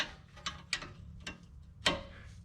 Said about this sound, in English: Tighten your bolts back down.